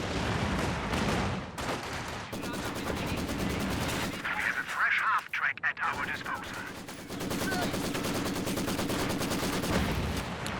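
A Maxim machine gun fires in Company of Heroes 2, rapid rattling bursts with a short pause in the middle, set among other battlefield noise and a commentator's voice.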